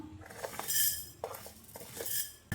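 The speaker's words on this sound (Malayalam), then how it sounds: "ചൂടായ ചീനിച്ചട്ടിയിലോട്ട് ആദ്യമേ മുഴുവൻ മല്ലി ചേർത്ത് കൊടുക്കുവാണ്" Whole coriander seeds dry roasting in a hot pan make a few short, quiet bursts of close rattling and clinking as they are moved about.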